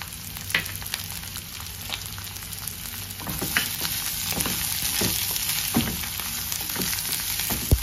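Green beans, capsicum and carrots frying on medium heat in a pan, a steady close sizzle with occasional stirring scrapes and soft clicks running throughout, no voices.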